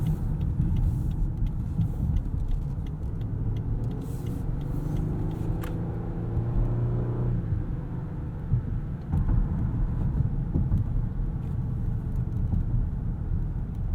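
Steady road roar and engine rumble from inside a 2018 Lexus LS 500 AWD cruising at speed, a continuous low drone with occasional shifts in pitch, no talking.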